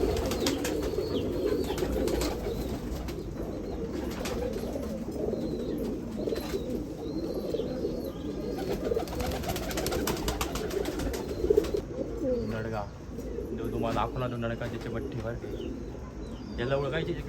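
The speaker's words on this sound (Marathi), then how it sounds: "आत बाजूला आहे जुना कबूतर आहे" Old Gauran pigeons, thirty to forty years old, cooing steadily in a loft in Nashik Road, a continuous low murmur of overlapping coos while people talk over it.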